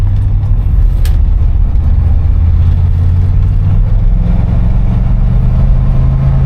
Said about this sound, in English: I get on her a little bit and get in the throttle just a little bit to see how she responds.